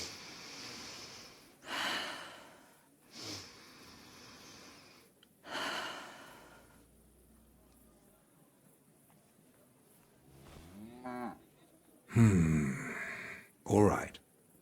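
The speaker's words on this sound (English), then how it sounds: "Your breathing is improving." An injured man in the video game Kingdom Come: Deliverance 2 draws several labored, gasping breaths and snorts spaced out over quiet, with pained vocal sounds near the end.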